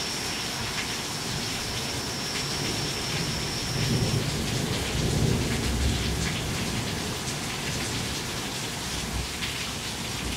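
Heavy rain pours steadily during a night thunderstorm in Port Colborne, Ontario, with low rumbling thunder rolling through the middle of the stretch, loud and continuous with no voices.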